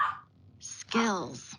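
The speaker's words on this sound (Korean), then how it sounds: "저희 강아지가 좀 뭔가를 요구를 하고 있어서" A pet dog barks and whines indoors during a Korean university lecture. It gives one drawn-out, falling bark-whimper, close and fairly loud, with a voice speaking just before it.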